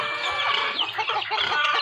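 A flock of chickens clucking busily and continuously, several birds overlapping at close range.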